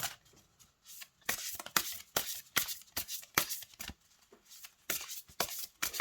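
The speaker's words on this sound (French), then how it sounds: "je vous propose de battre les cartes" Matte-finish oracle cards being shuffled by hand, a close run of crisp riffling bursts that repeat in quick, uneven rhythm with brief pauses between, loud and alone with no speech.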